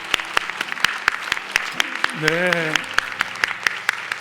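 A church congregation at a Friday evening gathering gives a round of encouraging applause for Hosanna, steady close clapping with a brief voice speaking over it partway through.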